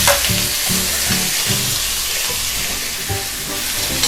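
Two large finely chopped onions frying in a pan for a tiffin gravy, a loud, constant sizzle with the occasional stir over a steady melodic backing tune.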